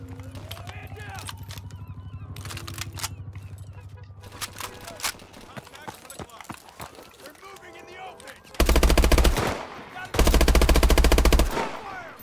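Gunfire in Call of Duty Advanced Warfare: scattered single shots and effects early on, then two loud sustained bursts of rapid machine-gun fire near the end.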